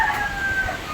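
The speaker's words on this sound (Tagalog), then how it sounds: "Daming manok. Maraming manok." Native chickens on a farm, several clucking and a rooster crowing close by, busy overlapping calls through the short clip with outdoor background noise.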